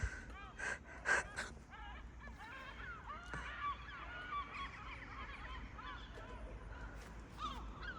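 A person imitates seagull calls with a few sharp, breathy squawks early on, followed by a wash of real gull cries and bird noise outdoors at moderate distance.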